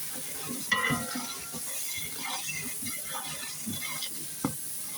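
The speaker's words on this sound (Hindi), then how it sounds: "अब हम इसके अंदर पेस्ट डालेंगे अदरक लहसुन का" Ginger-garlic paste frying with browned onions in a pan, a steady sizzle with occasional stirring scrapes and a couple of sharp clinks, close and moderately loud.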